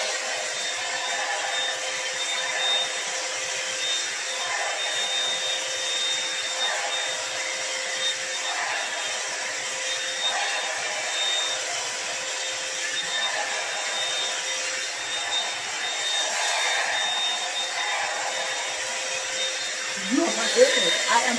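A blow dryer runs on fine-textured 4c low-density hair, giving a steady, close airy whoosh with a faint whine that holds without a break throughout.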